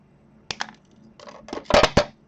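Wire wrapping on a handmade doodle cane necklace being snipped with cutters: a few sharp metallic clicks and clinks, close and fairly loud, with a busier cluster of snips near the end and no talking.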